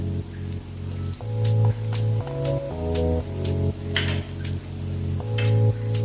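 Tomatoes fried with browned garlic and onion for an aloo chicken curry, a crackling sizzle with stirring scrapes running beneath prominent background music.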